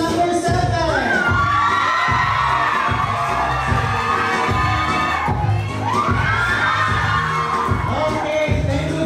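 A wedding audience cheers and claps for dancers, with a loud, continuous crowd roar, whoops and shouts over thumping music in the background.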